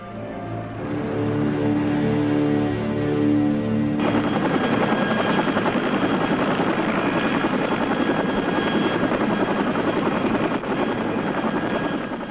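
A helicopter flies over the sea near the Falklands in a 1974 Spanish submarine film, a loud, steady rotor and engine drone that builds and holds throughout, with music fading out early.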